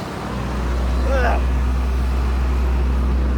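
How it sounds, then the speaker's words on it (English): A bin lorry on a street passes close by with a loud, steady engine rumble, with a short voice sound briefly heard over it. "I'm going past a bin lorry."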